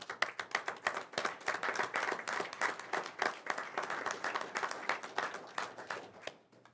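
Audience applause at a Riverton, Wyoming regular council meeting: a modest group clapping in a steady patter of distinct claps, fairly close, fading out at the end, with no talk over it.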